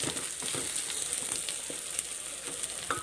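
Curry leaves fry in a pan with a continuous crackling sizzle. Sharp pops stand out here and there against the steady hiss.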